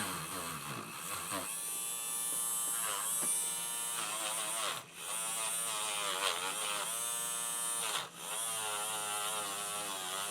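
A rotary polishing tool buffs the bracelet of a Seiko 5 automatic 7009A watch, giving a steady, loud electric whine and buzz that runs continuously, with two brief dips where the tool eases off.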